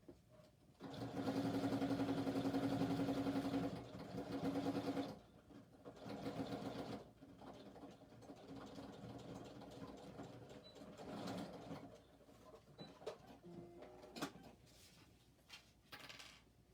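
A sewing machine stitches a criss-cross shoulder bag in a steady loud run of a few seconds, then shorter bursts and backstitching pauses, with small clicks and handling noises between runs.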